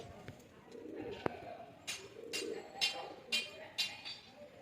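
Pigeons at a loft kept for sale, giving several soft cooing calls in a loose rhythm near the listener, with faint background voices and a sharp click early on.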